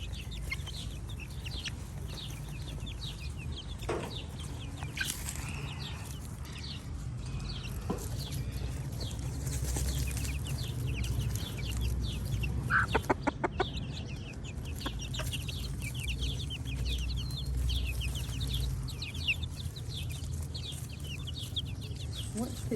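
Feral chickens clucking close by on a backyard chicken-raising setup, scattered soft clucks and chirps over a steady low background rumble, with a brief burst of rapid pecking clicks partway through.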